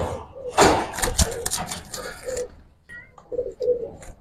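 Homing pigeons in a loft give several soft, throaty coos close by, with wing rustles and a light thump amid short bursts of handling noise.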